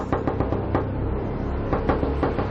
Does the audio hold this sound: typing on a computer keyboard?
no